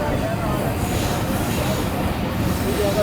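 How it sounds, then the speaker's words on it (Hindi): The Karachi Express rolls in toward its stop at Shahzadpur in Sindh, a continuous dense rumble of wheels and carriages with faint squeals, heard from on board. "ये हमारी ट्रेन शहजादपुर पर रुकने के लिए बिल्कुल तैयार है।"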